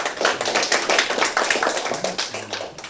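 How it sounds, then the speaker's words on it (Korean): Applause from an audience welcoming a speaker to a public debate forum: a close, steady patter of many hands clapping, fairly loud and continuous, with no talking over it. "큰 박수로 맞아주십시오."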